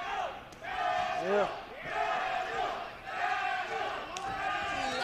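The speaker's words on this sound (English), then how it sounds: "You hear both of the crowds. The crowds are arguing. The crowds are fighting it now." A boxing arena crowd at a bout between Pedro Iván Bernal and Manuel Jaimes roars and shouts in waves of rival chanting, dense and loud throughout, with a brief voice calling out among them.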